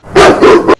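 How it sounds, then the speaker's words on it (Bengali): A dog barks twice in quick succession, a loud, close, sharp woof followed by a shorter second bark, with no voices. "কুত্তাটা খুব সুন্দর না?"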